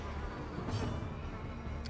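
A swarm of mosquito enemies in the Darkest Dungeon video game makes a steady, low droning buzz that holds evenly throughout, fairly faint with no voices over it.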